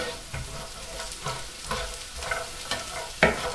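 Celery and other vegetables sizzle in a pot for beef stew while being stirred, a steady frying crackle with periodic scraping strokes and a sharper clink near the end, no talking.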